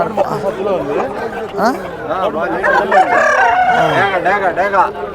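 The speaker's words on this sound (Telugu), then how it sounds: "కోడి చాలా బాగుంది ఫ్రెండ్స్" Roosters crow repeatedly amid clucking fowl at a busy weekly poultry market in Galiveedu, with people chattering loudly throughout.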